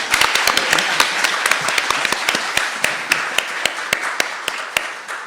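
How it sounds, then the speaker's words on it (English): A small audience claps for a speaker, with distinct individual claps in a loose, uneven rhythm rather than a dense roar, near and clear. "We'll clap for Wab."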